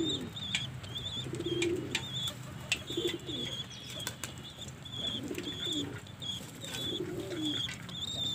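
A baby black fantail pigeon begging for food with repeated thin, high squeaks, mixed with soft cooing and brief wing flutters nearby.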